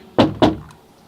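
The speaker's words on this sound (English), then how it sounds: "Maybe you should knock harder." Two firm knocks on a door in quick succession, close and clear, followed by a faint third tap and quiet room tone.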